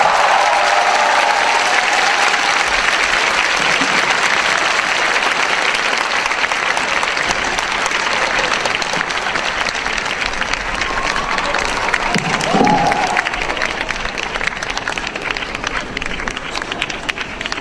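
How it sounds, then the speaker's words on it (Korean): Loud, sustained audience applause fills a Korean stage talk event, dense and unbroken from start to finish, with a short voice rising briefly above it near the end. "다시 한번 큰 박수 부탁드립니다"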